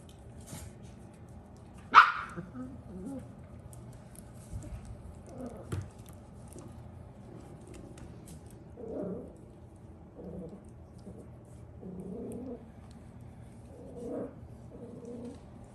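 Schnauzer puppies bark and yip in short bursts, one sharp bark standing out early, with scattered soft whines and scuffling noises through the rest.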